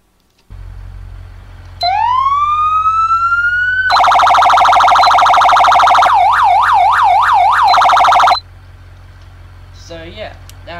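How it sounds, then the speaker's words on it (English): A Federal Signal MS-4000 police siren in the BeamNG.drive driving game winds up, then holds a loud steady wail. It switches to a fast warbling yelp before cutting off, sounding close and dominant. "The Federal Signal MS-4000 is probably the one to go with if you're using an FBI skin. Listen to it."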